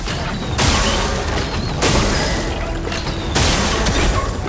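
Repeated explosions from a second attack in the video game Clair Obscur: Expedition 33, three loud booming bursts at roughly even intervals over dense battle noise, with no talk.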